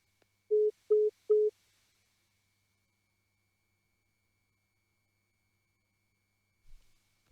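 Three short, evenly spaced beeps of a telephone line tone after an incoming call cut off a conversation, followed by silence.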